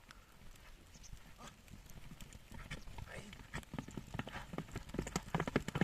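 Hooves of a horse clatter in irregular, quickening steps close by, growing louder toward the end, while a person speaks softly in the background.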